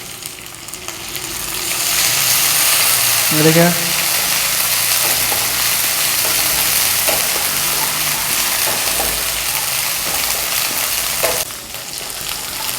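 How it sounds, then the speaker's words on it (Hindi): Onions fry in hot oil with ginger garlic paste added, giving a loud continuous sizzle with occasional stirring scrapes, while someone speaks Hindi briefly near the start. "जब तक ये प्याज ब्राउन कलर ना आ जाए तब तक हम इसको फ्राई करेंगे।"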